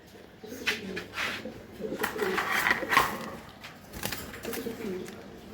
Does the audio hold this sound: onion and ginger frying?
no